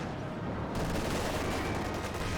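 A Panzer IV tank gun fires in a Company of Heroes 2 battle, a dense continuous roar of gunfire and explosions filling the whole short stretch, with no voices.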